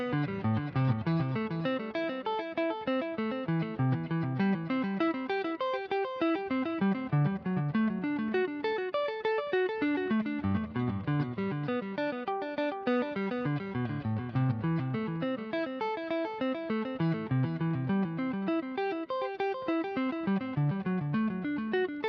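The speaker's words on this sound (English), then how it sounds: "you can see how the repeats make you sound like you're playing a little bit faster" Continuous guitar arpeggios through the rhythmic delay of a Boss ME-90 multi-effects unit, with the repeats filling in between notes so the playing sounds faster. Steady, dense and even throughout, with no talking.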